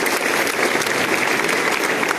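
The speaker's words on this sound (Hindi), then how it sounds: "रोहन कुमार के लिए एक बार पुनः आप जोरदार ताली बजाएं।" Steady, dense applause from a school audience at a college quiz event in Gorakhpur, clapping for a second-year arts student; loud and continuous throughout with no talk.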